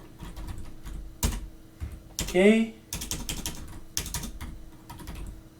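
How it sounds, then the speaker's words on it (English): Quick bursts of clicking from a computer keyboard sound up close during a Linux Ubuntu terminal session, broken into short runs with pauses, while someone speaks briefly. "actually I made an error here typing this"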